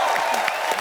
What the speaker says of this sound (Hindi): राजू भाई के लिए जोरदार तालियां।